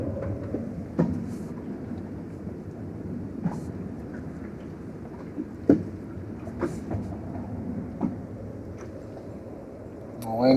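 A small rigid inflatable boat running at night gives off a steady, dense rumble and hiss that stays loud throughout, broken by occasional sharp knocks and clicks from the hull.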